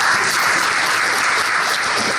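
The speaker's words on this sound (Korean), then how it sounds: "큰 박수 부탁드립니다." Loud, sustained applause from an audience at a blockchain career event as panelists are welcomed to the stage, a dense, even roar of many hands clapping that holds steady throughout.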